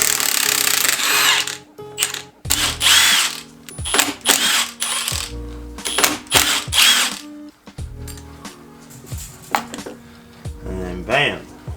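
Tensioner being worked off a Mazda Miata engine during a teardown, with repeated metallic ratcheting bursts and clanks of tools and parts, loud and close, separated by short pauses.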